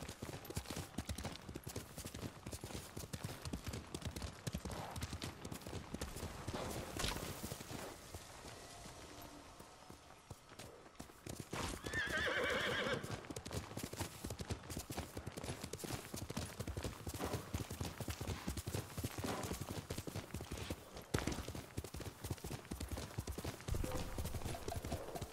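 Steady clip-clop of hooves from a horse on the move in the video game Ghost of Tsushima, loud and continuous throughout, with a brief quieter stretch midway and occasional game-like sound effects.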